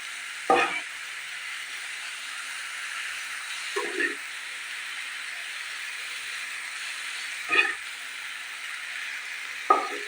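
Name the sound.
pumpkin and jackfruit seeds frying in a pan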